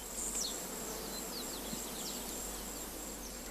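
Oil-collecting bees buzzing around oil flowers, a steady close insect hum with a few faint chirps above it, continuous for the whole stretch with no voices.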